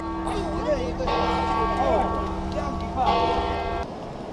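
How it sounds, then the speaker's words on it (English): Church bells ringing at the Vatican in Rome on a rainy morning, repeated peals in loud swells over a continuous wash of city and crowd sound, with some talk nearby. "Bells going off."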